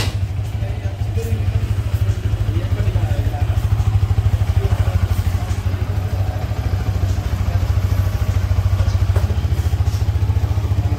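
A 2023 Yamaha R15M motorcycle engine runs steadily at close range, a loud continuous throbbing idle with slight rises in revs, while people talk faintly nearby.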